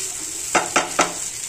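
Rice roasting in a pan for khichdi gives a soft, continuous sizzle, broken by three quick scraping stirs of a spoon in an even rhythm.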